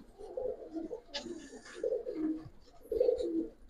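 Giribaz colouring and silver pigeons coo in repeated soft, throaty phrases, close and moderately loud, with no talk over them.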